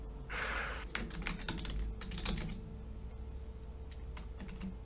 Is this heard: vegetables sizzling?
no